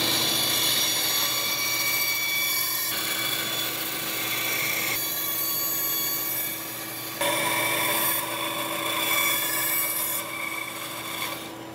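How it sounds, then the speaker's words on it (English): A bandsaw cuts through a piece of cedar wood, producing a continuous close whining rasp with a steady tone that shifts slightly as the cut progresses and pauses briefly in places, with no voices. "we're going to take it over to the bandsaw and cut it out"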